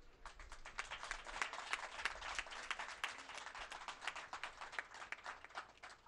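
A crowd at a Jain religious discourse gathering claps in a dense, sustained burst of applause at moderate distance, steady throughout with no speech over it.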